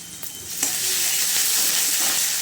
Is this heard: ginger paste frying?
yes